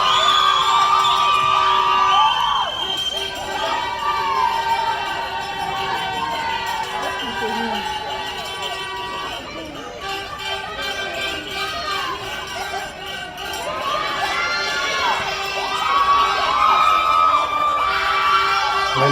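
A large crowd cheers and shouts for lawyers Camille and Ben Chu, loud, sustained whoops and excited voices rising and falling, surging again near the end.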